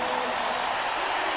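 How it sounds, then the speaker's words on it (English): Big crowd of 17,072 roaring steadily inside Key Arena during a 1997 NBA playoff game between the Rockets and Sonics, a dense, sustained wash of cheering with no breaks. "Now the crowd into it."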